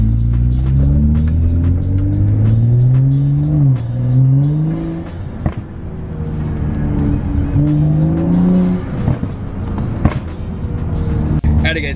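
A BMW F30 sedan drives with a loud, close engine note that rises and falls through gear changes, revving steadily with occasional tire noise and clicks throughout the run.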